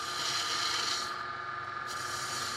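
A woodturning gouge rides the bevel against spinning wood on a lathe while making a rattle with captive rings, giving a steady, close rasping rub that carries on without a break.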